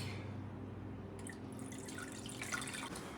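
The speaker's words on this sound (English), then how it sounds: "4 liters of water to fill up the tank." Water running into a small hydroponic garden tank in a kitchen, a steady trickle with dripping splashes growing brighter toward the end, close and fairly quiet, no voices.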